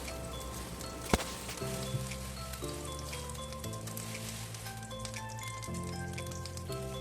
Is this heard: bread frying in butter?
yes